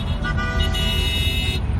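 Horns blare continuously at a truckers' convoy protest in Ottawa, layered into a dense, loud wall of honking over a steady low rumble of traffic.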